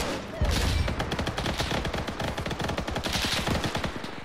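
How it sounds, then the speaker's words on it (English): Dense, continuous machine gun fire in a D-Day World War II video game assault on Pointe du Hoc bunkers, loud rapid bursts overlapping with heavy gunshots throughout, with no one speaking. "Machine guns everywhere."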